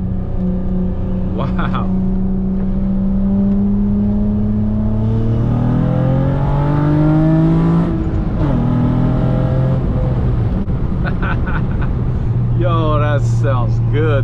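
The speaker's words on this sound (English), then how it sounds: "I can definitely hear the intake. It sounds so really throaty." A 2006 Acura TL with a six-speed manual, custom 4-inch intake, J37 manifold and J37 throttle body revs up and down in steady rising and falling sweeps, loud and close, with a voice speaking over it.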